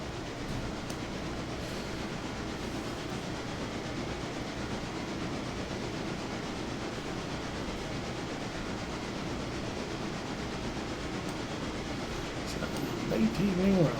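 A train runs in the Railroader video game, a steady broadband rumble and hiss that holds evenly throughout and swells slightly louder near the end.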